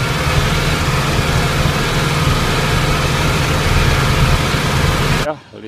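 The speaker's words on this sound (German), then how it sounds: "Ein luftgekühlter Vierzylindermotor." A steady, loud idling air-cooled four-cylinder tractor engine with a low, even rumble throughout, cutting off abruptly near the end.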